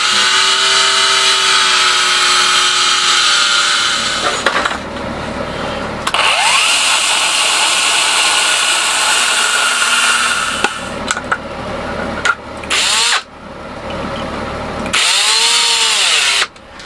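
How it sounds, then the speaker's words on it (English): A power drill bores holes for LEDs in a black 3D-printed book nook, running in loud close bursts with short pauses and changes in pitch between holes. "drill the holes for them"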